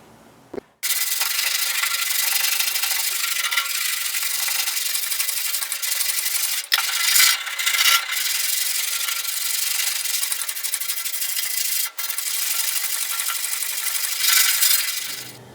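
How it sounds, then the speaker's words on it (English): Putty on a 1974 front clip being sanded by hand, a close, loud, continuous rasping scrub with a few brief pauses and no talk. "I got the initial sanding done"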